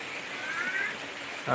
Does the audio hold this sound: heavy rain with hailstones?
yes